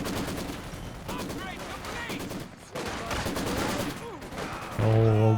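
Rapid bursts of machine gun fire ring out in the Company of Heroes 2 video game during a 2v2 match, with gunfire dense and continuous across the clip, swelling louder near the end, with a voice talking underneath.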